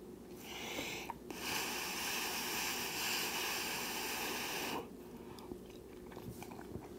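Food eaten with a spoon, heard as a steady, close, crunchy chewing sound held for several seconds before cutting off into quiet, faint mouth noises.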